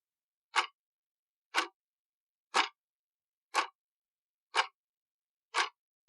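Six crisp, evenly spaced ticks about one second apart ring out alone against total silence, like a clock's steady beat.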